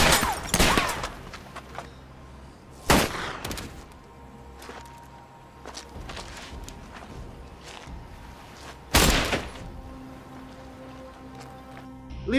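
Gunshots ring out in a gangster film scene, three loud sharp bursts spaced apart, the first near the start, one around three seconds and a heavy one near nine seconds, over a low steady rumble of background score.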